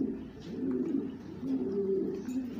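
White pigeons coo steadily and close by, a low throaty cooing that rolls on without a break, with no other sounds standing out.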